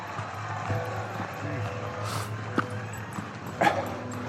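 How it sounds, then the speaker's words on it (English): A couple of small beagles, 13 inches and under, on a perimeter trail give a few short barks and yips at moderate distance, scattered over steady outdoor background noise with people talking. "A couple of beagles."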